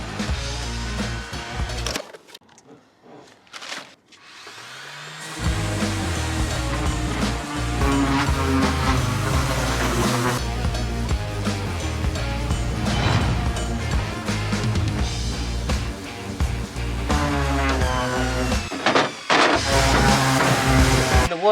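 A power sander grinds steadily against wood, starting in short bursts and then running continuously and loudly, with harsh scraping noise and no voices.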